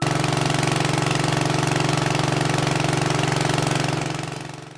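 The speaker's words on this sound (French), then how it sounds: "nous avons affaire à des motopompes qui vrombissent depuis des semaines dans plusieurs quartiers au littoral du lac" Motor pumps drone steadily while pumping flood water out of lakeside homes, a loud, even mechanical hum with constant pulsing that fades slightly at the end, with no voices.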